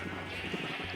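Sheep bleating in Minecraft, a short blocky bleat over a dense buzzing background hum, fairly near and moderately loud.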